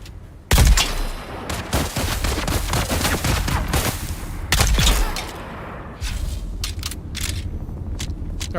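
Gunfire from a gun in the video game Dune Awakening: a loud opening blast, then repeated sharp shots and bursts spread across several seconds, with brief quieter gaps between volleys.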